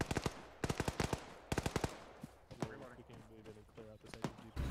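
Gunshots in the video game ARMA 3 come in rapid bursts of sharp cracks, then quieter rhythmic thuds beneath radio-style voices talking.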